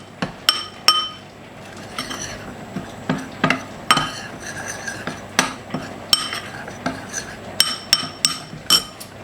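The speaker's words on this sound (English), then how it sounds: "Stir those together in the bowl, trying to take out any lumps that could be there." Ingredients for green bean chutney stirred in a bowl, a utensil clinking sharply against the bowl about twenty times in an uneven rhythm, close and clear, with no voices.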